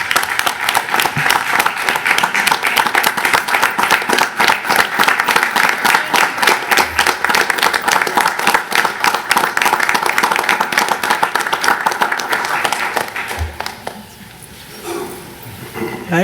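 Sustained, loud audience applause for a World War II veteran at an event, dense clapping from a crowd that tapers off near the end.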